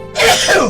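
A single sharp, close sneeze bursts out loudly, a quick breathy blast lasting under a second.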